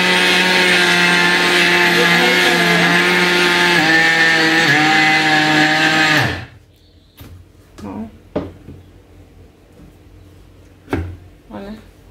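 A grinding mixer machine whirs loudly and steadily for several seconds, then cuts off abruptly, leaving quiet with a few scattered knocks and clatters.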